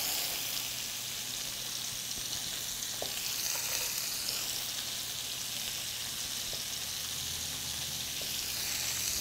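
Onions sizzle in a hot pan, a steady, bright frying hiss with a few small pops and stirring sounds, heard alone at moderate loudness.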